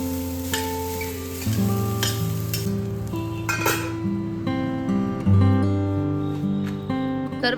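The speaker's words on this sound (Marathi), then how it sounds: "हा जो राईस आहे तो मी मस्त असा परतून घेते" Rice is stir-fried with tomato and Maggi masala in a pan, with sizzling frying and repeated clinks and scrapes of a utensil against the metal, loud and close, accompanied by steady background music.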